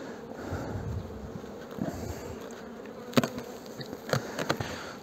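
Honeybees buzzing around a horizontal lying hive in an apiary, a continuous droning hum with a few louder passes of individual bees close by near the end, no voices.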